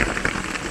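Rain pattering steadily on surfaces outside a small handbuilt cabin during a Carolinas thunderstorm, a dense close hiss with scattered louder drops and no voices.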